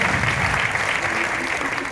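Steady audience applause at a business event, many people clapping together in a sustained, even burst, with some low crowd murmur beneath.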